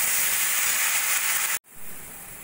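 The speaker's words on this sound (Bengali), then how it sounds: "মুগ ডাল দিয়ে কিছুক্ষণ ভাজা ভাজা করে নিয়ে" Soaked mung dal and spices frying in oil make a loud, steady sizzle that cuts off abruptly, then returns a little quieter and keeps hissing.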